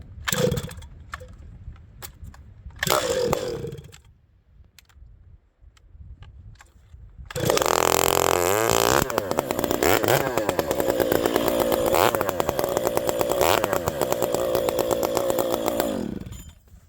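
A ported Stihl MS460 chainsaw starts from stone cold: a few pull-cord attempts and brief sputters, then the engine catches and runs with a loud, raspy, steady roar close by.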